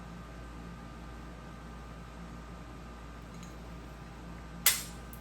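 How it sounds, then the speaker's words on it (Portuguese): A pistol discharges during a test where the trigger is never touched: one sharp, brief snap near the end, standing out against a steady background hiss with no talk. "Sem relar no gatilho, ela disparou."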